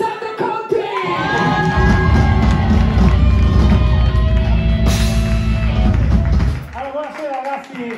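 A live concert crowd in Bologna cheers, whoops and claps loudly and steadily for a rock band's guest singer, a dense roar that fades near the end as voices talk over the stage sound.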